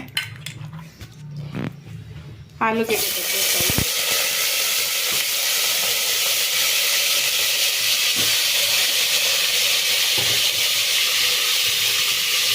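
A brief metallic clatter gives way to loud, continuous sizzling of hot oil in a cooker, a steady close hiss that carries on uninterrupted.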